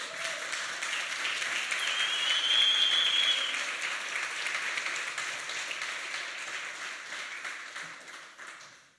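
A church congregation applauds together in a steady, dense wash of clapping that swells slightly and then holds for several seconds before fading at the end.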